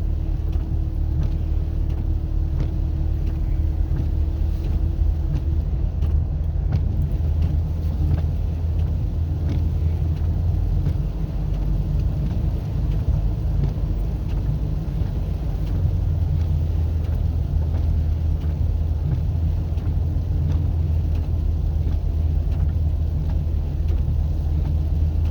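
A car engine braking downhill in first gear on a snowy mountain road, a steady low drone and rumble with road and wind noise, continuous and close, no talk.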